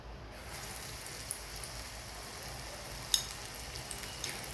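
Bitter gourd pakodas in besan batter frying in hot oil, a soft continuous sizzle with faint crackles and a sharper pop near the end, no talk.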